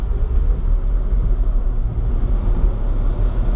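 A 2019 Jaguar I-Pace electric car accelerating hard from a standstill gives a strong, steady low rumble with road and wind noise that stays loud and even throughout, with no voices.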